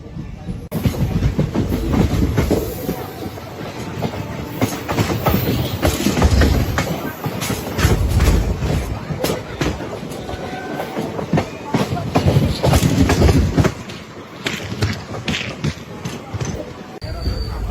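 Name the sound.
passenger train running on rails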